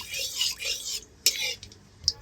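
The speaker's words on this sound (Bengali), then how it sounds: "দিয়ে ভালো করে নাড়াচাড়া দেব।" Whole garam masala and a broken dried red chilli are stirred in oil in a kadai, producing short scraping strokes and light metal clinks up close, with a faint sizzle between strokes.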